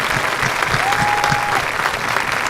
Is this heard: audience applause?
yes